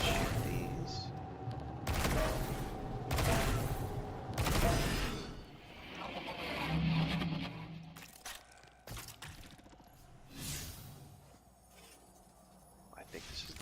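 Bursts of gunfire from shooting at symbol targets in Destiny 2, several loud volleys separated by quieter gaps, with someone talking in between.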